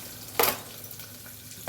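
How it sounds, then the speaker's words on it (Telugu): Spices for katte pongal tempering hit hot oil with a sharp sizzling burst, then fade to a low crackle before a second brief flare at the end; no talking. "ముందే తాలింపు వేస్తున్నాను ఫ్రెండ్స్"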